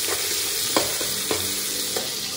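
A dal khichdi mixture with tomato sizzles steadily while being sautéed in a pan, with a continuous frying hiss and a few soft scraping stirs of a spoon, close and even.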